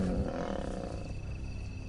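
Several lions savagely attack another lion at dusk in the wild, giving low, rumbling roars and growls in a dense, continuous, fairly faint snarling mass with no talk.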